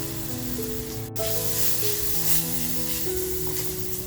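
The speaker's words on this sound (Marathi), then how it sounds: "मस्त फ्राय करून घेतलाय बघा" A homemade masala mix fries in a pan for a Konkani stuffed bombil and prawn dish, with a steady soft sizzle and hiss that runs on under background music.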